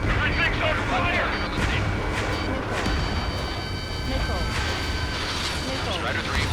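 Missile launches and explosions in the Ace Combat 7 video game form a dense, continuous roar of blasts and rumbling fire, with radio-style voices talking throughout.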